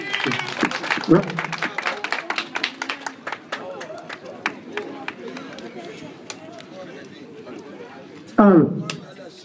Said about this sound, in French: Adama Diomanda, il faut l'applaudir